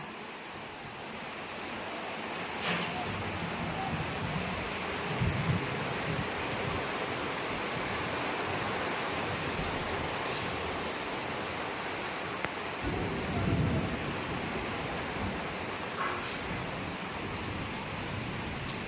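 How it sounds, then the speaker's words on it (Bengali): Heavy rain pours outside in a dense, steady roar, with low rumbles swelling around the middle that may be distant thunder, continuous and fairly loud with no voices. "বাইরে জোত্তর বৃষ্টি হচ্ছে।"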